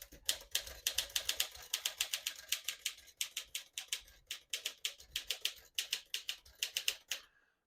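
Rapid, crisp mechanical clacking of the keys of a 1954 Smith-Corona Silent-Super portable typewriter struck in quick irregular bursts, steady and close, with no voices.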